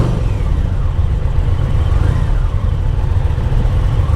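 A 2025 Indian Chieftain Powerplus performance bagger motorcycle engine running loud and close with a deep, steady rumble, like a continuous ride past the throttle with wind noise over it.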